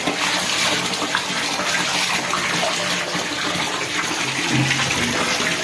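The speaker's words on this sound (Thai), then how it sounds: "ลองเปิดน้ำดูก่อน" Tap water runs and splashes steadily onto a leaking bathroom floor in an upstairs row-house unit, a continuous broadband gush close by with no voices.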